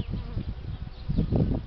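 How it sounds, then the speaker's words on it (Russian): Honeybees fly out of the hive on their first spring flight in Belarus, with deep snow still on the ground, a close, continuous buzzing hum that rises and falls, with no voices. "пчелам не мешай летать"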